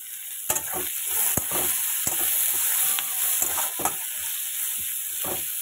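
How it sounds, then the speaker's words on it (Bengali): Green chilies tossed into onions frying in hot oil, giving a steady close sizzle and hiss with a few sharp stirring clinks and spatters throughout. "পেঁয়াজটা হালকা বাদামি করে ভেজে নেবো, নিয়ে এবার দিচ্ছি এই যে কিছু কাঁচা লঙ্কা।"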